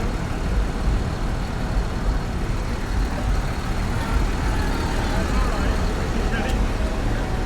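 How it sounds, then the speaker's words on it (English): The last few tractors of a Christmas convoy roll in along a road: a constant, loud, broadband engine rumble and road noise fills the whole stretch without clear breaks. "These are the last few tractors coming in."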